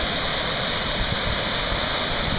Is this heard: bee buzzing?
no